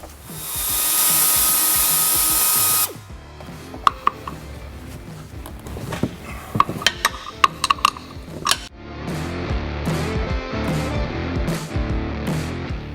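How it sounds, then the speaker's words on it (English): A die grinder cuts away plastic trim on the passenger side of a 2007–2018 Jeep JK, a loud high whine for about three seconds, then clattering and tapping as pieces are handled, then a softer tool drone. "Die grinder."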